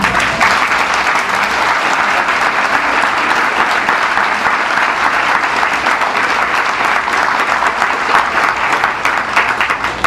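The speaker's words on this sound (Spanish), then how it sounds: "Denle un aplauso al Señor." Congregation at a church intercession workshop clapping in praise, a loud, sustained wall of applause that stays constant for about ten seconds.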